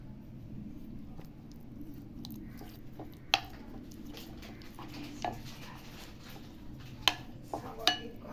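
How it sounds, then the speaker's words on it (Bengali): Marinated garlic chicken being mixed by hand, with soft wet squishing and occasional sharper clicks and taps against a bowl, fairly quiet and close. "তো নুন দেওয়ার পর আরেকবার একটুখানি মাখিয়ে নিতে হবে এটাকে, তো আরেকবার একটু মাখিয়ে নেব।"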